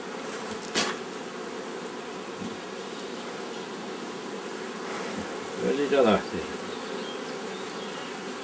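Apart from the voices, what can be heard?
honey bees buzzing at a beekeeper's hive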